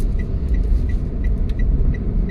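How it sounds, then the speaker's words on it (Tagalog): A slow-moving car rumbles steadily nearby, a low continuous engine drone with faint repeating ticks over it and no voices. "Medyo mabagal tong sasakyan."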